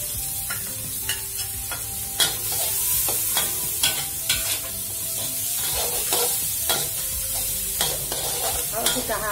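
Onion and garlic frying in margarine sizzle steadily in a pan, with repeated clinks and scrapes from a utensil stirring through the mix, close and clear with no talking.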